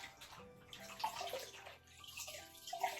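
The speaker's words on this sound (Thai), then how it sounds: "เดี๋ยวเราก็จะทำการล้างในน้ำก่อน" Homegrown vegetables being washed in water, with splashing, sloshing and dripping close by, in bursts and swirls over a quiet background.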